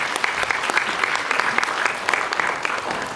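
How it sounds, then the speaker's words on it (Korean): An audience at a youth employment mentoring concert applauds to congratulate a department manager on a recent promotion, a steady dense wash of many hands clapping throughout at an even, moderately loud level. "우리 부장님 승진 축하 박수 한번 부탁드리겠습니다."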